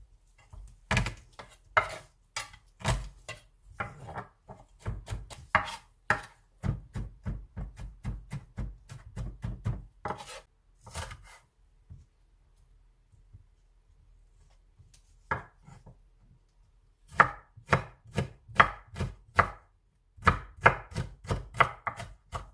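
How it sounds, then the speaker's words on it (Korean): A knife mincing garlic on a cutting board in quick rapid bursts of sharp chops, with short pauses between runs, close and clear with no talking. "마늘은 한 반 스푼 정도 예 넣을 거라서 한 두 개 정도 예 다져 넣을 거고요"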